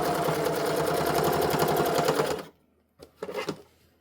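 A sewing machine runs steadily, stitching a fleece headband in a fast even whir for about two seconds, then stops, followed by a brief softer burst of handling or a short restart.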